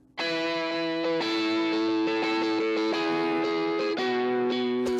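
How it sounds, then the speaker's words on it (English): Chorus plugin from an analog-style suite in Studio One, applied to a sustained synth or guitar-like chordal part, playing alone at steady loudness with shifting chords over five seconds. "Let's bring in the chorus now"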